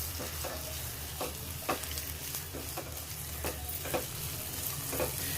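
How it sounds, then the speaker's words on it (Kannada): Mixed vegetables fry in oil in a pan, with a steady soft sizzle broken by repeated scraping stirs at an even rhythm, close by and fairly quiet. "ಈ 4 ತರಕಾರಿನ ಹಾಕ್ಕೊಂಡ್ಬಿಟ್ಟು ಲೈಟಾಗಿ ಫ್ರೈ ಮಾಡ್ಕೊಂಬಿಡೋಣ"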